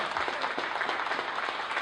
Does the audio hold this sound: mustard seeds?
no